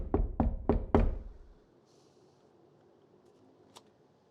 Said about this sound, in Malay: Encik Kasim, tolonglah buka pintu ni.